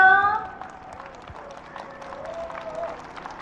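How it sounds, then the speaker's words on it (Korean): An audience claps lightly for a singer being introduced on stage before a song, a thin scattered patter of hands at modest loudness after a brief musical tone at the start. "박수 주시 기 바랍니다"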